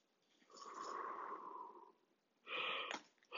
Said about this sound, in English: there's our first yawn of our yoga session.